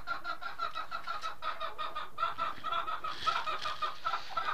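Brood hens clucking in a yard, a steady run of close, repeated clucks with overlapping calls from several birds, moderately loud and without talk.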